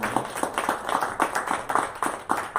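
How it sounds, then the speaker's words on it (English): An audience at a tech meetup claps steadily, a modest room's worth of hands. The claps arrive in a fairly even, rhythmic patter that stays moderate in volume throughout. "One more round of applause."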